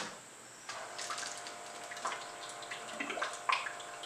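Water pump switching on to send cooling water through a distillation apparatus, a steady faint watery hiss and trickle that starts abruptly partway through and continues at low level.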